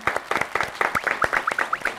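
A group claps for a violin performance of Csárdás on a TV variety show, giving a short, fairly rhythmic burst of close applause with distinct individual claps.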